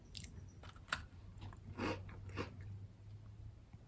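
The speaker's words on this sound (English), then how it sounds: "It's more of a crunchy shortbread cookie," Crunchy sakura-flavoured shortbread cookie being chewed up close, several crisp bites and crunches in a steady rhythm over a low background hum, with no talking.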